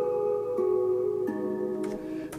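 Saxophone sample from a music production played forwards, with sustained harmonic notes that change pitch a few times in a short melodic phrase, steady and clear with no talk.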